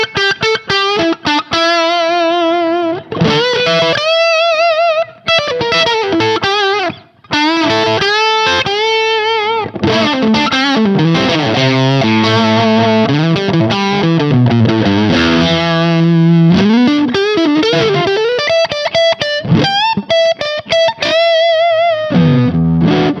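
An electric guitar fitted with Kinman 60s Custom Tele Zero-Hum pickups plays through a BDR pedal into a JTM45 amp, giving a loud, crunchy overdriven tone. It runs through busy riffs and sustained notes, with brief gaps between phrases.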